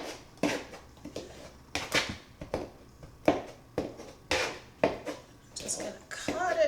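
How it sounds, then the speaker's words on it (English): Six tablespoons of cold butter being cut into a biscuit flour mixture by hand, without a pastry cutter, giving a run of irregular scraping and clinking strokes against a bowl while a person talks over them. "So we're just going to cut that into the mixture."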